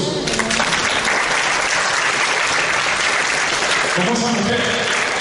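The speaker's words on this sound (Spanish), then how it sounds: "Dale un aplauso a Jesús." Church congregation applauding loudly and steadily in a sanctuary during a Spanish-language sermon, a dense continuous clapping that fills the space, with some voices mixed into the crowd noise.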